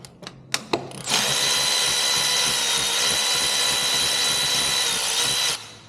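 A power tool removes bolts from a 6.4/392 Hemi engine. A few sharp clicks come first, then a loud, steady whirring burst lasts about four seconds before cutting off.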